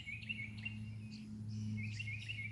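Small bird singing outdoors, repeated high chirping phrases at moderate distance over a faint steady low hum, no voices.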